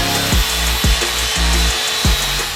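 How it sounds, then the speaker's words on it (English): A grinder smooths welds on the e-brake and shifter fabricated for a manual C8 Corvette drift car, a loud close whine over a steady hum, dipping in four rhythmic passes as it is pushed across the metal. "Now time to grind the welds and try to make it look like it doesn't even exist."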